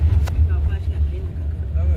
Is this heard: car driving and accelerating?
yes